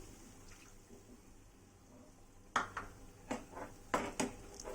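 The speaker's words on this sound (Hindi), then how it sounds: "थोड़ा सा पानी डालूंगी।" A little water poured into arbi masala in a pan produces a faint sizzle that turns into a run of splashy, clattering bursts in the second half as the liquid hits the hot pan and a spoon stirs.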